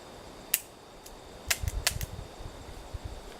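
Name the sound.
gunshots from a .44 Magnum with a red dot sight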